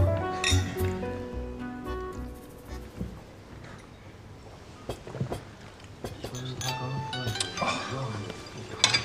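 Glasses clink faintly in a toast at a dinner gathering, a few light chimes spread across the moment, with people talking in the room around them.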